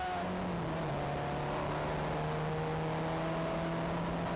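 A race car engine in a sim racing video game holds a steady, high whining drone with slowly shifting pitch, continuous and fairly close, with no voices over it.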